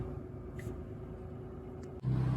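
A 2021 Mitsubishi Mirage sits with a low idle hum, then its engine abruptly fires and settles into a louder, rougher steady drone near the end, heard close up with no talk.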